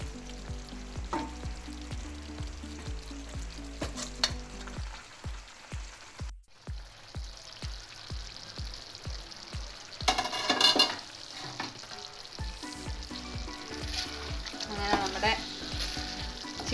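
Chicken roast sizzling in a pan, a steady frying hiss broken by scraping stirs and clatters of a spoon against the pan, close and alone without talk.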